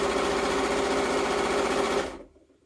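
A sewing machine runs steadily through stretch and woven fabric for about two seconds, a dense, even mechanical whir that stops abruptly, leaving near silence.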